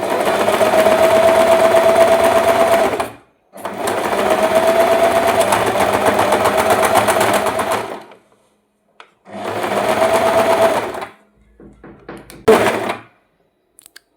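Sewing machine stitching a fall onto a saree, running in three long steady bursts with a humming whir and clatter, close and loud, then stopping with a few thunks and clicks.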